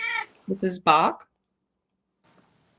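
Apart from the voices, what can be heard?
black cat meowing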